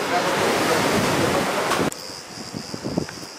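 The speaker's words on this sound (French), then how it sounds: "Ouh, quel vent!" Strong wind buffets the microphone with loud, roaring gusts on a beach at Agia Galini, Crete, then cuts abruptly to quieter surf and scattered rumbling knocks with a faint high tone.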